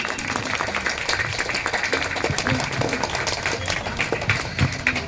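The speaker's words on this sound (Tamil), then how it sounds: "நல்லா கைத்தட்டலாமே" Applause from an audience at a women's federation summer camp in Nanganallur, a steady wash of many hands clapping at moderate loudness with some crowd noise mixed in.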